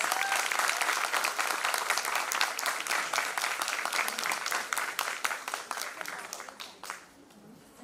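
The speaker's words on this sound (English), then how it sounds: "Please give them a big round of applause" Audience applause after an arangetram dance recital performance, a dense burst of many hands clapping that runs steadily before thinning and fading out near the end.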